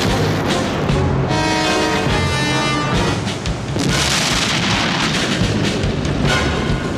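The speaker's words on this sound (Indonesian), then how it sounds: "Tank panzer Jerman langsung melepaskan tembakan demi tembakan dan menghancurkan setiap bangunan yang ada di sana." Dense, continuous rumbling barrage of heavy tank cannon booms destroying buildings, loud and sustained throughout, layered over battlefield noise.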